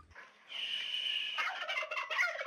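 A turkey on a farm gobbles loudly and close by, one drawn-out call followed by a rapid, warbling rattle of gobbles, heard alone with no talk.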